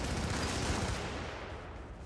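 Gunfire in the video game Helldivers, a dense, continuous rattle of shots that stays loud for the first second or so and then eases slightly toward the end, with no talk over it.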